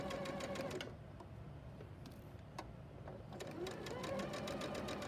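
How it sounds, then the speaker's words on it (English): A sewing machine stitches steadily just inside a drawn line, its rapid needle rhythm close and continuous with a short slowdown in the middle, while a voice talks quietly underneath. "I'm going to sew just barely to the inside of the line that I drew"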